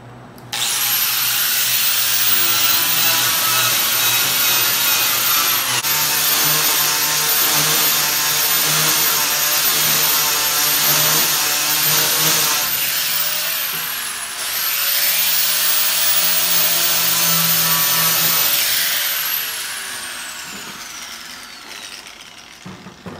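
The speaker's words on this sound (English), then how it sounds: "So let me grind it real quick, and then we'll show you that." A grinder works a part in a machine shop, giving a loud, steady high-pitched whine in two long passes, each ending in a falling spin-down as the tool eases off.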